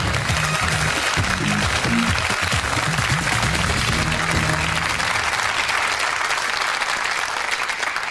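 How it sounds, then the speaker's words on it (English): Studio audience applause at a BBC style challenge television show, a steady, dense round of clapping sustained throughout with faint music-like tones underneath early on. "Give a big round of applause."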